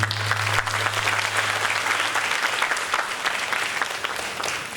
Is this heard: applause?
yes